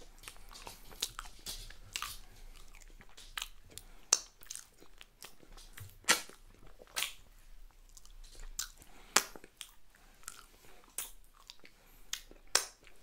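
Salted caramel fudge brownie topped with whipped cream is chewed close to the mic, giving soft wet squishes and crunchy bites in an irregular rhythm, punctuated by sharp smacking clicks and pops, with no talking.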